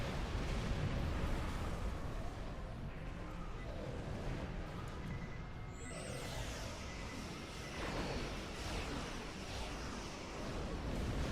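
Torpedoes firing and detonating in the Star Trek Online video game during an Elite Task Force battle: a dense, continuous wash of distant booming explosions with a sharper swell partway through, fairly faint overall.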